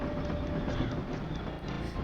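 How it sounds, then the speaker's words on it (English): A train from Paper Mario: The Thousand-Year Door rolls along with a steady rumbling roar and faint rhythmic clatter, continuous and even throughout. "This train will soon make a brief scheduled stop at Riverside Station."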